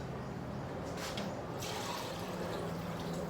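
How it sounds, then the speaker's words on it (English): Liquid for tamales strained and poured into a bowl from a half-gallon measuring cup, a steady, even wash of running, trickling water with faint drips throughout, no voices. "you strain it all out because there's a lot of leftover stuff in there, and you pour it into your bowl"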